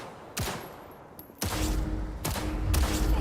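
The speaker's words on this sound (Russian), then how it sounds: "Сейчас будем проходить курс учебной стрельбы." Gunfire on a shooting-training range in the video game Cyberpunk 2077: four loud, sharp shots at uneven intervals, each followed by a booming, low rumbling tail.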